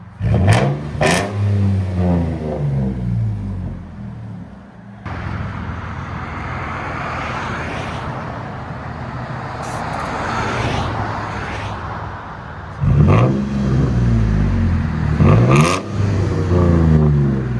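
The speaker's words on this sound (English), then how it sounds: "Straight pipe duals. Nissan Frontier." Straight-piped dual exhaust on a 2005 Nissan Frontier with a 4.0L V6 and manual transmission, revved hard in several loud blips followed by a long sustained high-rpm roar, then more sharp revs, close by.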